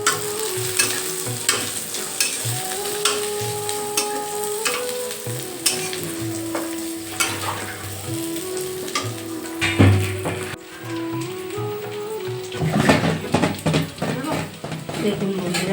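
Bori, small lentil dumplings, fry in hot oil with a steady, lively sizzle and occasional scraping as they are stirred, while a person talks over the cooking.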